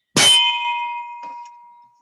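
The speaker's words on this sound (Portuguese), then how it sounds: "nosso sino" A bell rings once to open a session, striking with a sharp metallic clang that leaves a clear ringing tone fading away over about two seconds.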